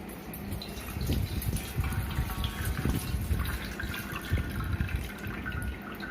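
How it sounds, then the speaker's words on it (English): Water streams out through several holes in a container at equal pressure, giving a continuous splashing, trickling pour that is close and steady throughout. "the water was coming out from all the holes with the same pressure"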